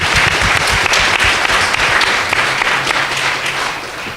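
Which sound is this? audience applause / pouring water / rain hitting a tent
audience applause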